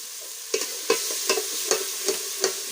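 A spoon scrapes in a steady rhythm, about six strokes, as tomato paste is stirred into cooked tomatoes in a pan over a village cooking fire, with a soft sizzle underneath.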